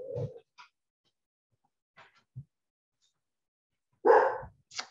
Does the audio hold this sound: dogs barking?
yes